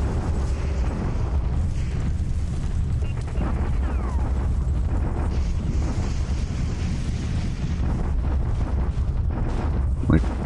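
Artillery bombardment rumbles continuously as a dense, loud, low roar of distant booms and blasts with wind-like noise, sustained throughout without a break.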